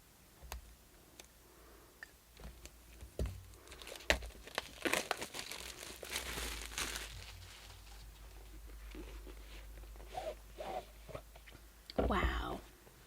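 A subscription box package being opened by hand, with close crinkling and rustling of wrapping in uneven bursts, a few sharp clicks and tears, and a person talking between them.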